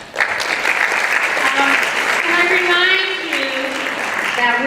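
Audience applause at a Democratic primary candidate forum rises sharply and holds as a full, steady wash of clapping, with a voice speaking over it toward the end.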